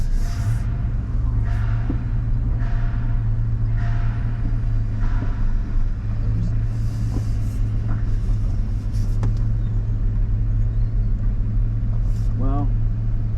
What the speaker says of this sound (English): so I'm gonna back up to this pile over here and dump everything out